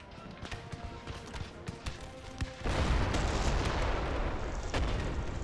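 Grenade and musket battle sounds in the Total War Darthmod game at the Battle of Lodi: sharp reports, then a dense rumbling barrage of blasts that swells midway and holds loud.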